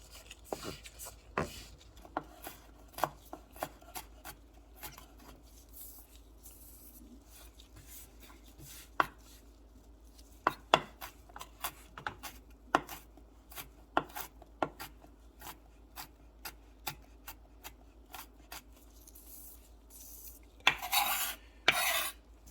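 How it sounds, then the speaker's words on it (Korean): Sausages for sausage fried rice being finely chopped with a knife on a board, with quick irregular taps and clicks, some in rapid bursts, fairly close but quiet with little else around. "잘게 썰어주세요."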